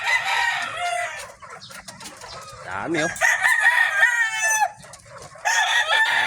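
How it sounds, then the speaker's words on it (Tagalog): Several backyard chickens cluck nearby and a rooster crows loudly and repeatedly; a voice speaks briefly among the birds. "Naantay ka na ng mga manok mo, boss."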